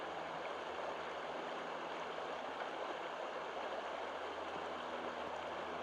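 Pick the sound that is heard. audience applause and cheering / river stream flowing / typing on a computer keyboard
river stream flowing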